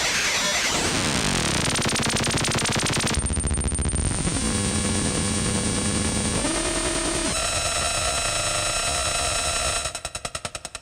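Synthesizer noise music from a voltage-controlled oscillator: harsh, loud, buzzing and sweeping tones shift abruptly between gritty textures, ending in rapid stuttering pulses, with no talking.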